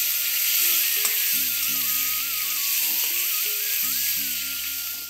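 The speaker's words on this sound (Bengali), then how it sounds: "সব আলুগুলো আমি দিয়ে দিচ্ছি, দিয়ে আবারও ভালোভাবে একটু নাড়াচাড়া করে নিচ্ছি" Cut potatoes frying and being stirred in a pan make a loud, continuous sizzle, with a steady mechanical hum running underneath and a few faint utensil scrapes.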